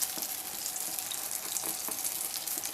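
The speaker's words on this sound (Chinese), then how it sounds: "炸这个饼一定要高油温下锅，才能使饼柔软好吃" Youbing dough frying in hot oil, a steady, close sizzle and bubbling crackle that runs unbroken throughout, with no voices over it.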